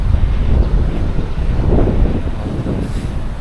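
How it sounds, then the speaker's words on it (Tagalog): Strong wind blows across the microphone on Station 3 of White Beach in Boracay, a loud continuous rumbling buffet with faint surf-like wash underneath and no voices. "malakas ang hangin, malamig"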